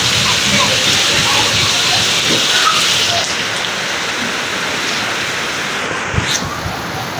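Heavy, stormy rain pours onto a flooded street, a loud continuous hiss and splatter filling the whole stretch without a break.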